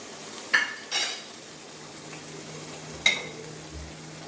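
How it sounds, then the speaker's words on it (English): Tamarind paste for pulikachal bubbles in oil in a pan, a faint low sizzle broken by a few brief spoon clinks and stirring knocks against the pot, with no talking. "At least for 5 minutes it will boil and the oil will come out."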